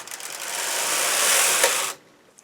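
A domestic knitting machine carriage runs across a row of needles in one continuous whirring, rattling sweep lasting about two seconds, then stops abruptly.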